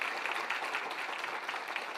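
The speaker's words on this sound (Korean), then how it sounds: "우리 박수 한번 할까요? 이거 박수 하셔야 돼요." Church congregation clapping together during a Sunday service, a steady, fairly faint patter of many hands lasting a couple of seconds with no voices over it.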